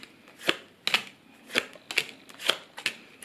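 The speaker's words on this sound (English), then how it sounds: "I have been shuffling for way too long" Tarot cards shuffled by hand, six sharp papery slaps at a loose regular pace, close and clear with quiet between each.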